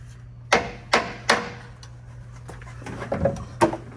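Sharp metal hammer blows knocking a lower control arm off a 1959 Ford Fairlane, about seven close, ringing strikes in irregular bursts over a low steady hum in a garage.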